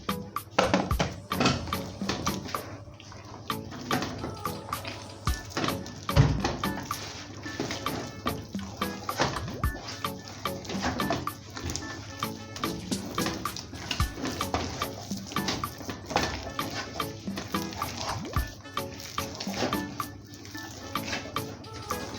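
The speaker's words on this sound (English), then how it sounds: "Turn it and put more water" Water splashes and trickles steadily into cassava flour as it is stirred and mixed into kokonte, a continuous close wet slosh with soft scraping running throughout.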